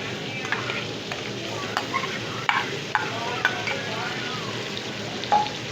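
Tomatoes tipped a little at a time into kaleji masala frying over raised heat, giving a steady close sizzle under repeated stirring scrapes and light spoon taps, with no talking.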